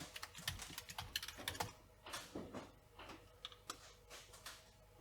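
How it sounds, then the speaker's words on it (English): Computer keystrokes tapped out in quick irregular bursts as a WPA2 Wi-Fi password is typed into a box, fairly close and crisp, with short pauses between flurries and no voices. "if I can type in the box"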